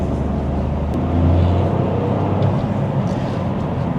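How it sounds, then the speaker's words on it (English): A Toyota GR Corolla engine runs with a deep, steady exhaust rumble, swelling briefly in volume before settling back to a continuous drone. "This car also sounds really good."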